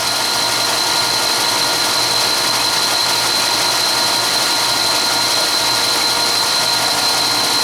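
A VW rocker shaft being sanded on a belt sander, with a loud, steady, continuous grinding whir held close and unbroken throughout.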